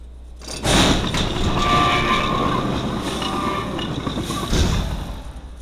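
A train pulls away in the video game Syberia 2, its rumble and rattling cars rising sharply and holding steady, then fading slightly with a second surge near the end, heard alone with no voices.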